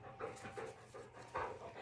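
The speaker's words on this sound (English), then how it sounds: "This is my grand dog heavy breathing by the microphone." A dog pants heavily right beside the microphone, with quick rhythmic breathy huffs repeating several times, close and fairly quiet, with no talking.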